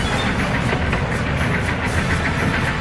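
A steady, rumbling mechanical drone with a faint rhythmic chuffing, like a steam train engine arriving nearby, continuous and fairly loud with no voices.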